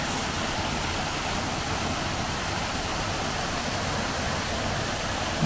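A constant rush of a small waterfall falling into a flowing river, a steady even roar with nothing else standing out.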